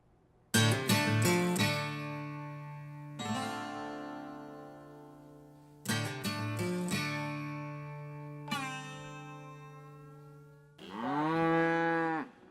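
Cattle moo repeatedly in a farm setting, long deep harmonic calls that rise and fall, about four or five loud bellows, some overlapping, with no talk over them.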